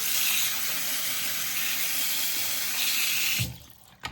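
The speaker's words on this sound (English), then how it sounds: "Washing it out a little bit with warm water because I figured that would kind of melt the sort of oil" Warm tap water runs steadily into a sink while oil-based paint is washed out, a loud continuous broadband rush that cuts off abruptly near the end, leaving a brief quiet with a small knock.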